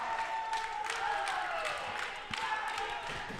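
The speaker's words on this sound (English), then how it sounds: "you hear the energy coming from both the students setting up in the crowd" A college volleyball crowd of students roars and claps after a service ace, a steady wash of cheering and applause in a gym that holds at an even level throughout.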